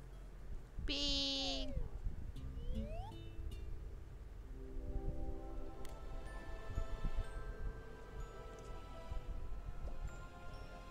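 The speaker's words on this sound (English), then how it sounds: "Oh, it's a kitty." Cartoonish cat meowing in the cooking video game Overcooked! 2, one clear high meow followed by chirpy rising tones and game music.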